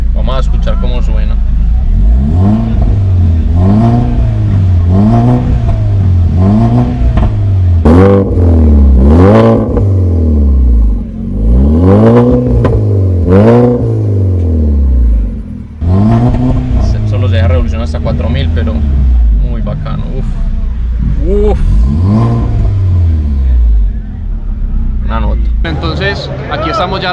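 A BMW M235i automatic sports car engine revs up and down repeatedly in loud rising and falling sweeps, heard close from inside the car, with a voice talking intermittently.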